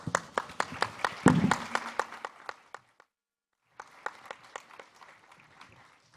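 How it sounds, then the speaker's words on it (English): Scattered applause from a small forum audience during a stage set change, sparse claps that thin out, pause briefly, then pick up again more quietly. "A round of applause."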